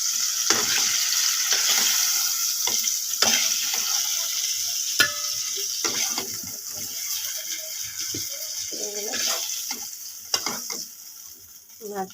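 Pieces of pangas fish fry in hot oil in a pan, a steady close sizzle with scraping and stirring clatter from a utensil, no talk over it.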